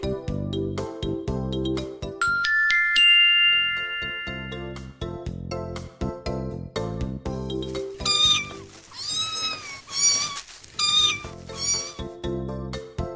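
Several high, close kitten meows from a litter of kittens come in a quick cluster over steady background music, loud and clear against the melody.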